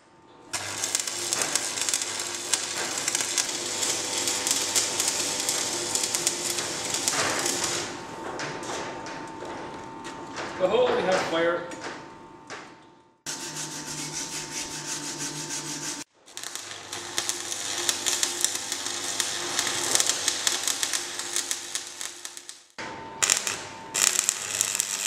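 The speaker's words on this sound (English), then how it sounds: "so I'll just weld that up now." Welding on a homemade three-point linkage fork: a steady, loud electric crackle that runs in long bursts, broken by short pauses and brief clicks.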